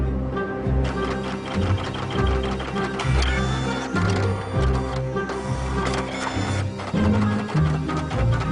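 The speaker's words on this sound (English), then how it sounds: "A part inside the printer has failed" An office printer with a failed internal part runs continuously, producing a dense mechanical whir with rhythmic clicking and rattling, close and steady without any talk.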